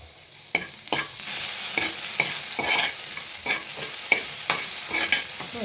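Peas and sweet corn sautéing for semiya upma in a home kitchen, a steady sizzle broken by regular scraping stirs of a spoon against the pan, close and clear, with no talking.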